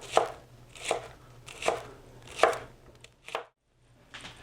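A knife chops breakfast-casserole ingredients on a cutting board in a rhythm of about five firm, close strokes spaced roughly a second apart, then a short pause and a lighter final cut.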